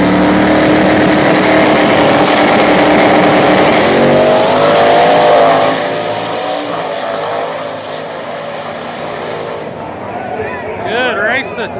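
Turbocharged Fox body drag cars at an outlaw small-tire event roar loudly down the strip, then the engine noise fades into the distance as an announcer talks over it.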